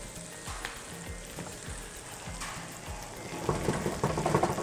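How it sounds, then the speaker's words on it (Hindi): Food frying on a high flame in hot oil, a loud crackling sizzle with rhythmic spoon strikes at the start and a fuller, busier bubbling toward the end. "तेज़ आंच पे करेंगे इसको अब हम फ्राई।"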